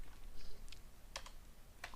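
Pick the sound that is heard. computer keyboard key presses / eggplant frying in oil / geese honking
computer keyboard key presses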